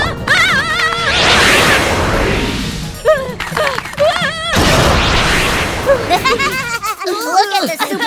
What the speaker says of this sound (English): Ice cannon!